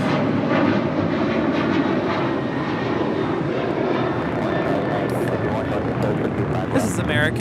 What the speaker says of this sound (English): This is American 669 departing to Chicago O'Hare on a 737-800.